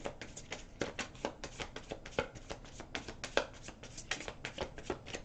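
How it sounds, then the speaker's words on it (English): Close, soft riffling and flicking of tarot cards shuffled by hand, a steady irregular patter of quick papery snaps with no talking. "One more little shuffle here."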